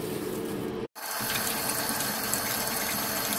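Tap water runs steadily into a sink while Guilin chestnuts are washed, a continuous close hiss with one brief cut-out near the start.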